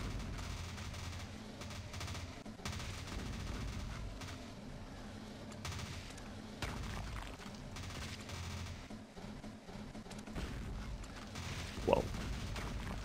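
Shotgun and machine gun fire from an akimbo-style video game, dense continuous gunfire with bursts throughout and a sharper louder shot near the end.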